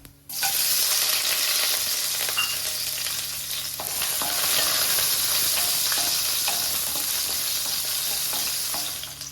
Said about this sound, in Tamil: இது பொரிஞ்சதும் ஆனியனை இது கூட சேர்த்துக்கலாம்.